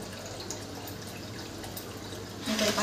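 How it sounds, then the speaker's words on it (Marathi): Water runs steadily from a kitchen tap into a cooking pot at the sink, a continuous close splashing rush that grows louder and fuller in the last moments. "इकडे पातेलं भरून पाणी खाली चाललं।"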